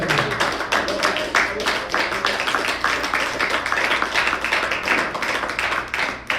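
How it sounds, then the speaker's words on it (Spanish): A church congregation applauding during a sermon, dense rhythmic clapping from many hands, loud and continuous with faint voices mixed in. "Denle ese aplauso a Jesús."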